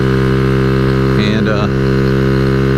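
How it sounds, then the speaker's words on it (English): A custom Honda Ruckus scooter engine idles with a steady, unbroken low hum from start to finish. Someone speaks one brief word over it in the middle. "she just now started up really nice and started idling right away"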